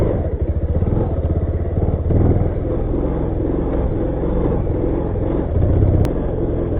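Motorcycle engine rumbling steadily close by while riding downhill on a rough track, a continuous low clattering drone with slight swells and no pauses.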